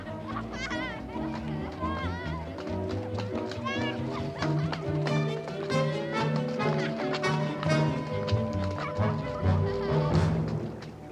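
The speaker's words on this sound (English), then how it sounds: "Now, what the deuce is the matter with the dog?" A dog barks and yips several times in a Sherlock Holmes radio drama episode, amid busy background music and voices, the barks sharp but partly buried in the mix.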